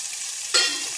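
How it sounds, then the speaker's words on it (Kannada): Field beans (avarekalu) hit hot oil in a pan for a sambar, a sudden close sizzle starting midway that settles into a steady frying hiss, with no voices. "ರೆಡಿ ಮಾಡಿರುವಂಥ ಅವರೆಕಾಳನ್ನು ಹಾಕ್ಬಿಟ್ಟು ಇನ್ನು ಸ್ವಲ್ಪ ಎಣ್ಣೆಯಲ್ಲಿ ರೋಸ್ಟ್ ಮಾಡಬೇಕು"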